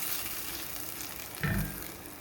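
Garlic paste and cumin powder frying in a hot pan, a steady close sizzle with a brief louder burst of crackling as the spices are stirred.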